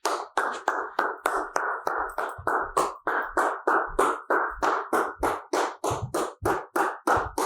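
Hands clap steadily as someone walks, about two claps per second for roughly fifteen sharp, even beats, close and clear with no talking, part of a dog relaxation exercise.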